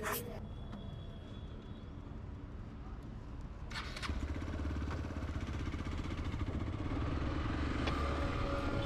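A motorcycle starts up with a sharp clatter, then its engine settles into a steady running drone that grows louder and fuller as it pulls away, with brief talk early on.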